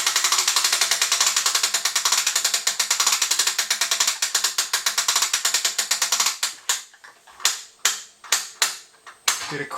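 A ratchet on a bow draw board clicks rapidly and steadily as it is cranked up to the draw stop, then slows to a few separate, louder clacks near the end, close up with no talk.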